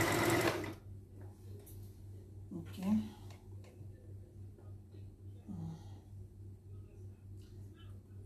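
A sewing machine stitches in short runs set to normal straight stitch, with a steady low mechanical hum and a burst at the start, briefly pausing between runs amid quiet room noise.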